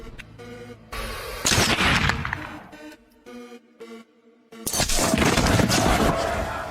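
Sniper rifle gunfire in a film scene: sharp, loud blasts with shattering tails break through quieter stretches, close and forceful.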